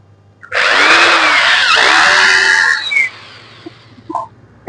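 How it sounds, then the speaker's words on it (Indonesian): Electric drill bores a wall anchor hole in one loud, steady whine of about two and a half seconds, close by. It then winds down, followed by a few faint knocks. "ini sudah dipasang dan kita bor ini"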